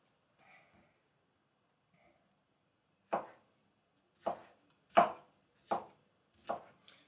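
Knife chopping a second tomato on a cutting board for a homemade moussaka: five crisp, close chops at a steady, unhurried pace after a near-silent start, with no talking.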